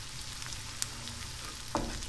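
Red onion and mushrooms frying in a pan, a faint steady sizzle with a couple of brief sharp crackles, quiet and close.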